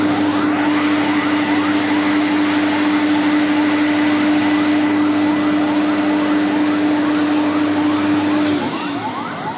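A fire brigade engine's siren wails continuously and loudly at a plane crash site in a Karachi residential area, holding a steady tone with background rumble before easing off near the end.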